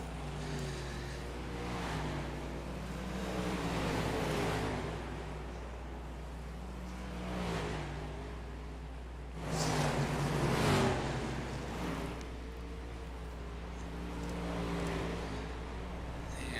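Race car engines roar past in waves at the Charlotte speedway during warm-up, swelling and fading as they go by, somewhat distant, with no speech.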